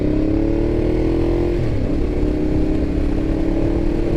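A Ducati Diavel motorcycle rides on bumpy secondary backroads, its engine a loud, steady droning rumble with a slight pitch dip midway, heavy wind and road noise close up and no speech.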